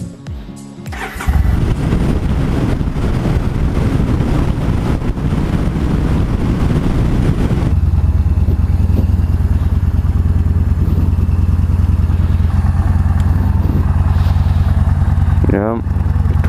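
A motorcycle engine starts and runs steadily close by, a loud continuous drone with a deeper, steadier rumble setting in partway through, wind buffeting the microphone and a brief whine near the end.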